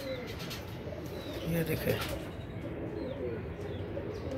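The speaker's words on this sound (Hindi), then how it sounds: "ये उड़ा दिए जी हमने कबूतर" Pigeons coo softly and steadily as they are released to fly, over a busy outdoor background, with someone talking nearby.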